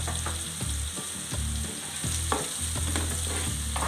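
Curry leaves and turmeric fry in oil for a cabbage curry, giving a close, continuous sizzle with rhythmic stirring scrapes of a spoon against the pan.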